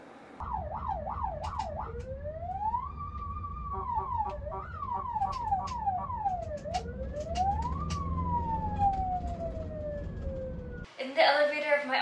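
An ambulance siren wails loudly and steadily, cycling between rapid yelps and long rising-falling sweeps over a low engine drone, ending in a burst of noise.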